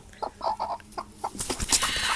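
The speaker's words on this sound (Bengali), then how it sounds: "আর এই যে একটা মুরগি" A hen clucks in short, repeated bursts close by, followed by a louder rustling, hissy stretch of flapping and movement near the end.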